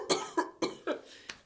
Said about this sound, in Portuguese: Tive que tossir.